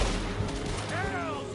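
A gunshot headshot in Red Dead Redemption 2: a short, sharp report over a busy game soundscape, with a rising tonal sweep near the end.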